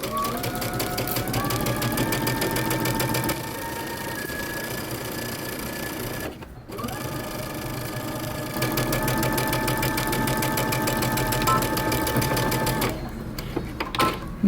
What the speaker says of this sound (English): we're going to stitch our yoke onto our back